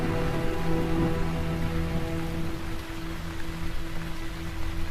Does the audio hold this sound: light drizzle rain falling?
yes